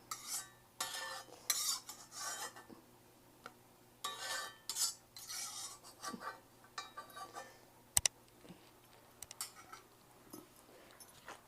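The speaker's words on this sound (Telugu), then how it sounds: "ఇట్లా దంచుకోవాలండి." Bottle gourd and tomato chutney being pounded by hand produces irregular close knocks and scraping clatters in quick bursts with short pauses, fairly faint and without talk.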